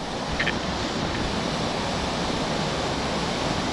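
A river runs beside a trek path in the dark near Chalal village in Himachal Pradesh, a steady dense rush of flowing water filling the scene without pause.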